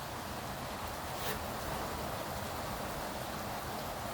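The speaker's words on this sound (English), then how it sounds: "It's a nice rainy day." Steady rain falling around an open balcony, a soft continuous hiss with faint drop patter that holds at an even level throughout, no voices present.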